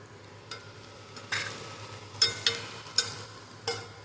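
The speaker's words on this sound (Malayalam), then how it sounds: "അരിഞ്ഞു വെച്ചിരിക്കുന്ന കപ്പ മൊത്തത്തിൽ ഞാൻ അതിനകത്തേക്ക് ഇട്ടു ഞാൻ ഇളക്കി യോജിപ്പിക്കണം" Chopped tapioca being stirred in a pan on an induction cooker: a soft sizzle with several distinct scraping clatters of a spoon against the pan, close and isolated with no talk.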